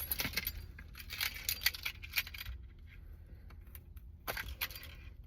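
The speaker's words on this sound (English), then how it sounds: "where are my keys so I can get this open?" Keys jangle close by in a series of bright, irregular metallic clinks and rattles, with a short quiet pause before a final jingle, heard with no talk over it.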